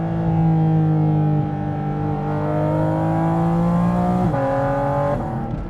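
Porsche GT4 RS engine with a mechanical, gnashing intake noise, a close, steady tonal drone that holds, then climbs briefly near the end as revs shift.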